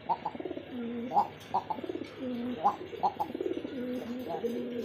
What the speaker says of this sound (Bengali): এখন কবুতরের ডাক দেখেন